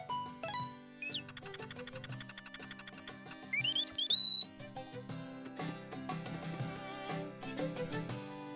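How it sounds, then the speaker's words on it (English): A bird whistle from Zelda: A Link Between Worlds, reusing the flute whistle from A Link to the Past, plays as a bright ascending run of tones within busy game music and effects, loud and close, with no talk. "Notice the bird whistle is the flute whistle from A Link to the Past."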